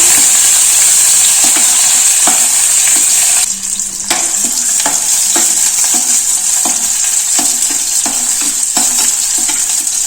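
Onions sautéing in a pan with garlic and curry leaves, a loud continuous sizzle of frying, punctuated by regular scraping strokes of a spoon stirring against the pan, close and without talk.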